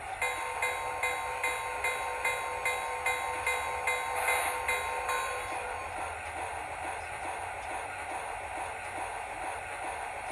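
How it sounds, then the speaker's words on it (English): A rapid, evenly paced model train bell from an MTH RailKing Blue Comet dings repeatedly over a low rumbling train noise, then stops halfway while the rumble continues. "Here's the bell."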